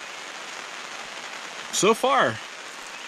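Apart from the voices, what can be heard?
rain falling on a rooftop tent and awning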